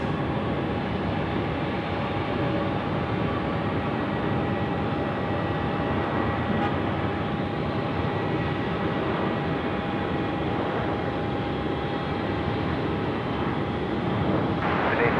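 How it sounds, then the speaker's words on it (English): Boeing 737-800 airliner on final approach to land at Sydney Airport, a steady broadband engine roar heard from a distance, continuous and moderately loud throughout. "We've got a 738 just coming in from Perth on finals now."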